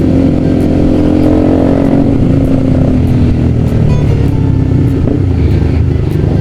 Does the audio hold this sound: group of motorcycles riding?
yes